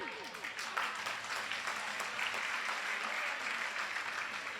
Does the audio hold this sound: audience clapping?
yes